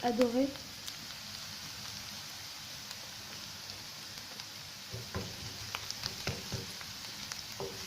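Onion fries in a pan until golden, a faint soft crackle and sizzle with occasional light stirring taps.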